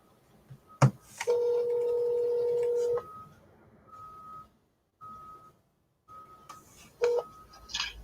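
A run of short telephone keypad tones, then a steady tone and intermittent beeps on the line, with faint rustling in between.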